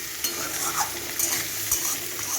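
Potatoes and salt being stirred in a sizzling pan: steady frying hiss with several light scrapes and knocks of a spoon against the pan, close up, with no talking.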